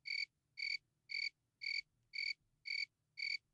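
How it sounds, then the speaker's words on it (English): Cricket chirping sound effect from a soundboard, seven evenly spaced shrill chirps in a steady rhythm, clean and alone. "Do I have the crickets queued up?"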